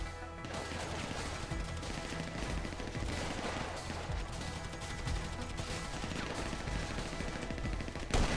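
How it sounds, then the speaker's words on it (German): Gunfire from the video game GTA V, a steady dense barrage of shots running throughout, loud and continuous with occasional heavier cracks, layered over game background noise. "Du hörst mal auf zu schießen."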